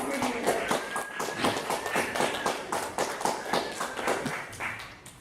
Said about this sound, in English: we're gonna clap for her anyways because she was here